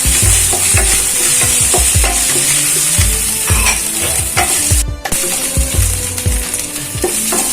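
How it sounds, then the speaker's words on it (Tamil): Onion and chopped green chili being sautéed in a pan for egg curry, loud continuous sizzling with repeated rhythmic scrapes and stirs of a spoon against the pan, close up and without talk. "நல்லா வதக்கிடலாம்."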